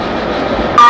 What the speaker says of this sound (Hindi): ऋषिकेश रेलवे स्टेशन से अब ट्रेनों का संचालन शुरू हो गया है।